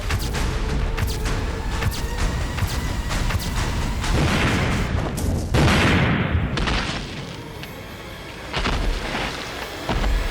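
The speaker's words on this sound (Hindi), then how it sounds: "लगभग 1000 विस्फोटक लगाए हैं और अब चंद ही मिनटों में ये बिल्डिंग मलबे के ढेर में बदल जाएगी।" A loud, sustained roar of a building demolition blast using about 1000 explosives and collapsing debris fills the whole stretch, with crashing surges and rumbling, no voices.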